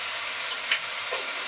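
Mushrooms cook with a constant hissing sizzle as spice and soup powder are stirred in, with a few faint light taps from the utensil, close and steady without speech.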